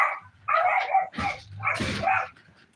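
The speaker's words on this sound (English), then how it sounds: "silly dog, I tell you, silly." A dog barks several times in short, separate yips and barks, close and moderately loud, with no talk over them.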